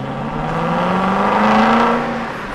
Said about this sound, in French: je monte dans la voiture, boum, elle démarre, et je roule.